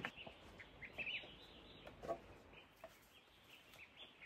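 A brooding hen sits in a laying nest on a mountainside farm, giving a few soft, faint, low clucks spaced out over a quiet background.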